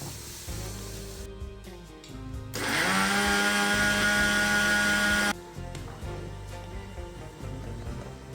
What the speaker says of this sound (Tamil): சீனியை கிரைண்டர் கப்புக்குள்ளே போட்டு அரைச்செடுக்கணும்.